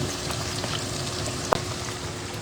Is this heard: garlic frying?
yes